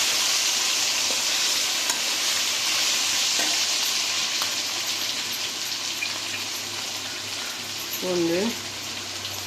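Crushed garlic fries in a pan for a taro root stir-fry, giving a continuous loud sizzle and hiss with faint stirring scrapes; a voice briefly sounds near the end.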